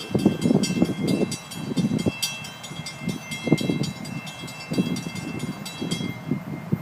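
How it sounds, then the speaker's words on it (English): An FEC freight train led by a yellow and blue locomotive rolls through a Main Street grade crossing, with rhythmic wheel clatter and rumble under the steady ringing of crossing signal bells, heard fairly close. "And here comes our show, hauling around the corner, with a 100 leading, yellow and blue."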